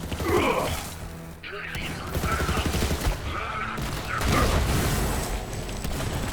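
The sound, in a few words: Faisor assault rifle gunfire in the video game Borderlands 3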